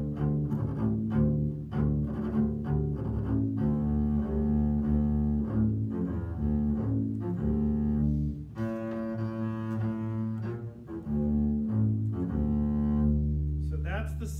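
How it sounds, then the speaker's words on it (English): A double bass is played with the bow in a solo passage, deep sustained notes moving through a melodic line with clear bow strokes and a rich low resonance, heard close and alone. "So that's the sound of the bass played with the bow."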